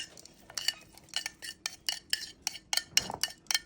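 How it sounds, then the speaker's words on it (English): Thai beef salad with cabbage, carrot and dressing being tossed in a bowl, producing a run of sharp clinking and scraping strikes of utensils in an uneven rhythm, close and fairly crisp. "Mixing it together."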